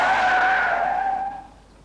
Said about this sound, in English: He drives the police car at 30 miles an hour, the speed limit for this road, and then brakes.